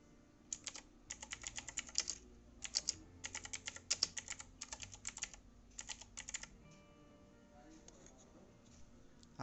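Computer keyboard typing as a repository description is entered, quick close bursts of keystrokes with short pauses between words, fairly quiet and without talk.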